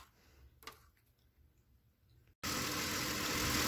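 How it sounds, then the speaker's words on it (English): A 2010 Ford Ranger 4.0L engine, just fitted with a new fuel rail pressure sensor, cranks to life after a quiet stretch, bursting into a loud, steady close-up idle that runs to the end. "Okay, we've fired up the engine."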